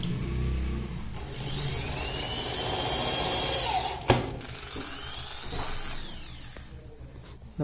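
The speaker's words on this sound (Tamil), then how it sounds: "நம்ம ட்ரில் மிஷின் வச்சு முடிக்கணும்" A power drill whirs steadily and close, driving screws to fit a speaker into a Maruti 800's boot pad, its pitch rising and falling across two long runs with a brief clunk between, no voices.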